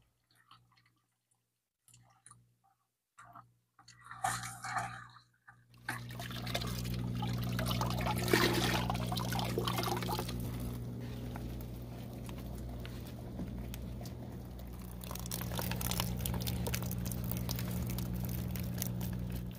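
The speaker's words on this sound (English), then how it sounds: "what I'll do is just submerge them underwater until there's no more bubbles coming out at minimum" Garden transplants pushed under compost tea set off a steady stream of bubbling and trickling water after a few quiet drips and splashes, continuing close and moderately loud to the end.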